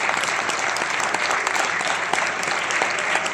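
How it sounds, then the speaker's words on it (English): Sustained applause from a large audience at a university golden jubilee felicitation, honoring a professor and his team; steady, dense clapping fills the hall throughout with no pauses. "please clap him in a bigger way."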